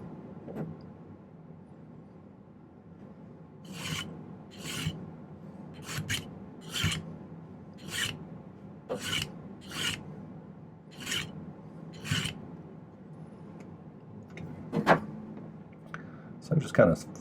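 Hand file rasping over a silver wobble ring to smooth its soldered joints, a steady series of close, rhythmic strokes of about one per second over a low room hum, with a couple of sharper scrapes near the end.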